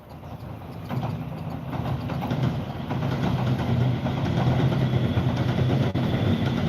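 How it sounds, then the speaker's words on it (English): A train rumbles past close by a campsite near the Fuji River in Daigo, Japan, a steady low-pitched roar that swells and holds throughout, with faint rattling above the heavy engine drone. "Oh, train."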